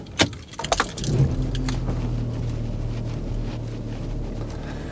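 A Volkswagen Touareg, bought half repaired, is started: a few metallic key and starter clatters, then the engine catches and settles into a steady low idle rumble close by. No one speaks.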